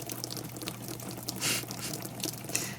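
Rain falls steadily outdoors where a mini Australian Shepherd plays, a soft continuous watery patter with faint drips, fairly quiet and close, with no talk over it.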